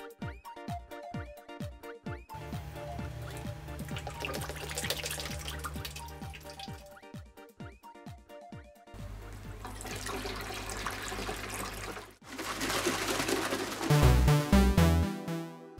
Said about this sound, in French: Je commence par remplir le liquide de refroidissement jusqu'à arriver au niveau max ici